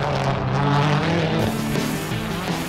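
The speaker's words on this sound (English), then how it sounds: "I'm driving the Dirtfish Subaru STI, an amazing car" The Dirtfish Subaru STI rally car drives a lap of a track, its engine loud and close, revving and shifting pitch as it accelerates, with tyre noise beneath.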